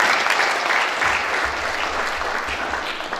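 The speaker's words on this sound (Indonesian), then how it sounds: "Berikan tepuk tangan kita untuk Tuhan." A church congregation applauds in a steady, dense wash of clapping. It stays even and fairly loud for a few seconds.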